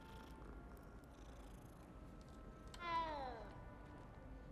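A cat in the video game Hogwarts Legacy, quiet and close, with a soft purr underneath and a single clear, rising meow near the middle.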